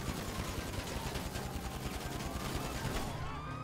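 Rapid gunfire in GTA Online aimed at a police helicopter during a chase, a dense continuous fusillade of shots fairly loud throughout, no speech heard.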